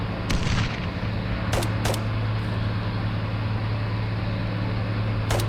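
Recoilless rifle shots fired at an armored personnel carrier in the Armored Brigade II war game, a few sharp distinct blasts spread across the clip over a steady low hum, with no talking.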